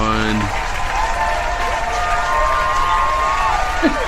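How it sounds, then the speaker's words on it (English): Loud, steady applause from a studio crowd fills the room, with a few cheers mixed in. "A round of applause, everyone."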